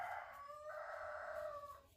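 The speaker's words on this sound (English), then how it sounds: "Sorry about the chicken." A rooster crows once in a long, drawn-out cock-a-doodle-doo that fills the whole moment, moderately distant and alone in a quiet indoor setting.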